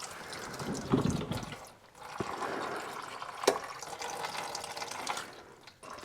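Green coolant drains out of a Porsche 911 under repair for rust, a steady splashing pour of liquid with a few louder gurgling bursts, close and continuous.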